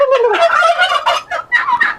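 A male turkey on a farm gobbles in loud, close, rapid warbling bursts, two bursts separated by a short pause, with no talk over it.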